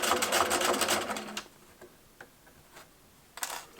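A sewing machine runs a rapid, steady stitch along the outer edge of a fabric tote bag for about a second and a half, then stops; faint clicks and handling follow, with a short mechanical burst near the end.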